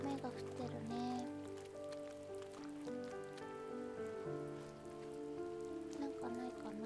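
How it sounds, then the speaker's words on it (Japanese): Continuous soft rainfall hisses and drips beneath layered sustained musical tones, even in level throughout, with possible voice-like sounds mixed in. "雨が降ってるね。"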